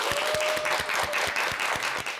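Audience applause at a Korean television talk show lecture on folk painting, a steady dense patter of many hands clapping throughout, fairly near and even in loudness.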